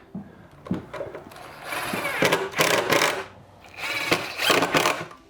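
A power driver whirs in two sustained bursts as screws are driven into a fitting during an electrical rewire, with a few small clicks and knocks of handling between the runs.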